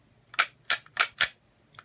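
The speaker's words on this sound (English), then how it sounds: "the shutter still fires as normal" A Holga 120N plastic medium-format camera's shutter fires in a quick run of four sharp, close clicks, with a fainter fifth at the end, heard alone in a quiet room.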